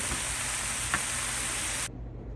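Pepperoni slices frying in a cast iron pan make a steady, close hiss and crackle that runs evenly for about two seconds, with a few small pops, then cut off abruptly into quiet.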